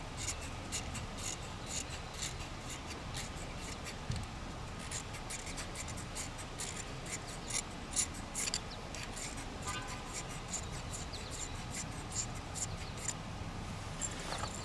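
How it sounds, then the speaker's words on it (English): A knife blade scrapes magnesium into a tinder bundle for fire starting, a quiet, continuous rapid scratching that repeats steadily throughout with no talking. "So here I'm going to use my knife to scrape some of this magnesium"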